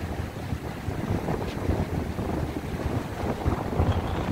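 High ocean waves at Barra da Tijuca beach in Rio de Janeiro, a continuous low surf roar mixed with buffeting wind noise against the microphone, no voices.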